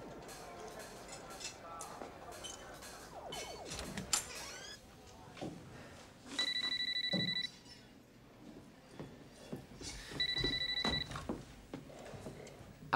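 A telephone rings twice in clear electronic trills separated by a pause, with voices talking and shuffling noises in between.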